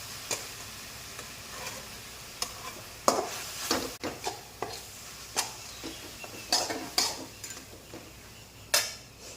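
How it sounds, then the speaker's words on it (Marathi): A noodle masala mixture is stirred in a pan: sharp spoon clinks and scrapes recur irregularly over a soft background sizzle, close by and with no talking. "त्याच्यानंतर नूडल्स मसाला हे सगळं आपण मिक्स करून घेऊया"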